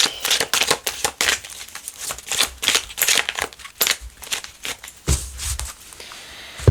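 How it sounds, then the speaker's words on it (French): Tarot cards are reshuffled in a rapid series of sharp riffling and slapping bursts, close up, with the rhythm quickening toward the end and no talk. "je vais remélanger les cartes"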